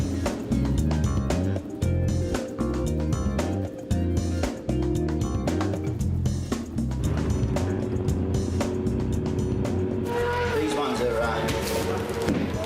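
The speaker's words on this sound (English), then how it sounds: "The guys are just firing up the engines, putting a bit of heat into them for the first time" Race engines are fired up and warmed for the first time, a continuous low idling drone with uneven revving and engine harmonics, while people talk over the noise.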